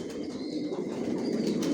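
Racer pigeons make soft, close cooing murmurs with a faint flutter of wings, a low continuous sound that carries for a couple of seconds.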